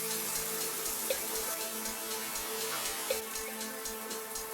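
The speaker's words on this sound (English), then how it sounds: "Today I will be showering with the rosemary-infused Rejuvenate shampoo and body wash bar." Shower water running during a shampoo-bar wash, a soft continuous hiss and splatter with light irregular drips, close and steady, with no talking.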